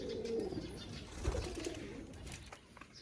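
A racing pigeon hen cooing softly in a loft, low murmuring coos with faint rustling and quiet background noise, close but gentle.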